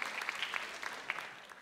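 Scattered hand claps from an audience at a Jeju-dialect children's song festival, applauding a children's choir; a brief, fairly faint spatter of individual claps that tapers off within two seconds.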